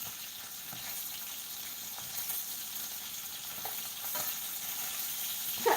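Very thin strips of bacon sizzle and crackle steadily in a pan at breakfast time, a dense continuous frying hiss with small pops and occasional stirring clicks, no voices present.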